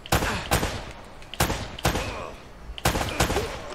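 Loud, crisp gunshots in Uncharted: Drake's Fortune crack out one or two at a time at irregular intervals, each echoing briefly before the next shot.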